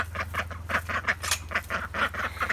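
Young ducklings in a backyard pen on a hot day, giving a rapid run of rhythmic, nasal quacks over a low steady hum.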